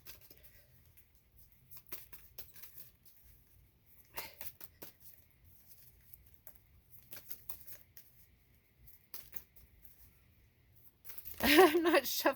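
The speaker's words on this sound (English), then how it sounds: "I'm not shuffling very good today." Tarot cards shuffled by hand, faint scattered riffles and taps through most of the stretch, ending in a louder, denser burst of card shuffling.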